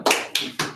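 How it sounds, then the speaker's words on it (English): Audience clapping at a workplace safety meeting, heard as three short bursts of hand claps separated by brief pauses, fairly close and loud with no talking. "Thank you for clapping."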